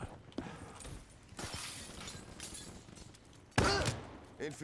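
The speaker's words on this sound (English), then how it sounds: "I heard the glass." Glass shatters during a Call of Duty: Black Ops 3 multiplayer match: a sharp, bright crash bursts out near the end over quieter game noise and earlier thuds, with a fainter crack just before it.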